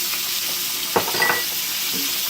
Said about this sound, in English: I'm just going to let them cook, kind of caramelize them in the butter and the steak seasoning